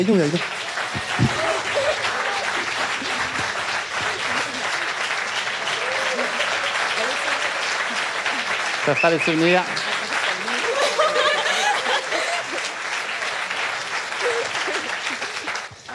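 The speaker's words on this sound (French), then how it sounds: "Vous êtes en train d'applaudir parce qu'il prend des photos." An audience at a live podcast recording applauds at length, with steady, dense clapping that runs throughout as people talk, laugh and exclaim over it.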